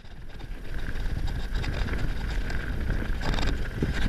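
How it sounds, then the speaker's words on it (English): Strong wind gusts across a saltwater fishing pier, a constant roaring buffet that fills the whole stretch without pause or speech. "It's real windy out."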